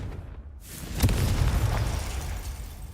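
A Confringo fire spell exploding in Hogwarts Legacy, a single loud blast about a second in that rolls into a rumbling, fading tail.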